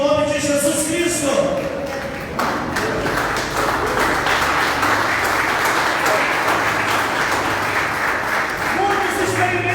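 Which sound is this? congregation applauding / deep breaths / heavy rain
congregation applauding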